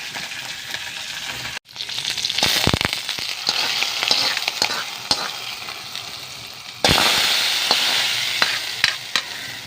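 Dried red chillies and curry leaves fry in hot oil with a loud, crackling sizzle. Sharp pops and spatters stand out from a dense hiss, which flares up suddenly about two-thirds of the way through.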